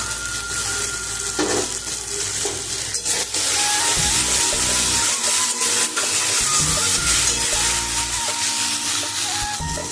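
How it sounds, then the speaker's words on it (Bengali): Spice paste being stir-fried in a pan while prawn and bitter gourd dish is cooked, giving a loud continuous sizzle and hiss with scraping stirring and a low rumble throughout, no voices. "আমি মশলাটা ভালো করে কষিয়ে নেব"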